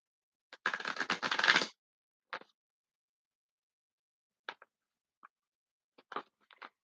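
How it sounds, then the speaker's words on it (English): Tarot cards are shuffled in a dense papery riffle lasting about a second, followed by several short, sparse taps and flicks of cards being handled, close and fairly quiet with no talking. "I'm gonna shuffle 2 more times"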